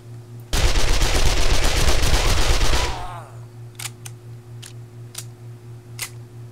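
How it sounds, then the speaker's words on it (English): A loud, rapid burst of automatic gunfire from the video game Wasteland Z rattles for a couple of seconds, followed by several sharp, spaced single clicks over a steady low hum. "you're shooting high."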